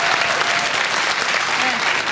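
Loud, dense applause from a convention panel audience at Shore Leave fan convention, a steady wash of many hands clapping close by with voices faintly mixed in.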